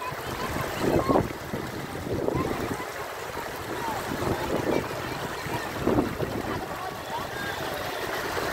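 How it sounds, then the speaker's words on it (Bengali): Water rushes through the GK irrigation canal in a steady broad roar with gusty wind noise on the microphone, loud and continuous, while people talk nearby. "পানির ডাকটা শোনেন"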